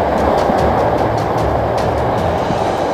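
Strong wind roars without a break across a new seaside campsite in Taean, South Chungcheong, during rainy, stormy weather. The loud, dense rush buffets the site, with no voices.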